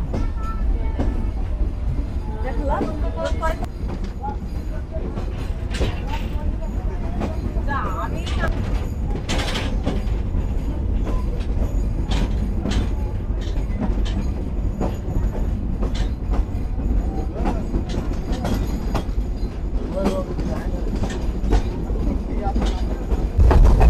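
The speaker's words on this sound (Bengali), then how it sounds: "বিকেল 4টা বাজে আন্তনগর কপোতাক্ষ এক্সপ্রেস ছেড়ে গেল পাকশি রেলওয়ে স্টেশন থেকে" Kapotaksha Express, an intercity train, pulls away from Pakshi railway station, with steady loud rumble and rail clatter of wagons throughout, occasional sharp clicks of wheels over joints, and faint voices mixed in.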